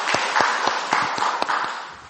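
A church congregation claps together in a Sunday service, with distinct rhythmic hand claps standing out over a loud wash of applause that fades slightly toward the end.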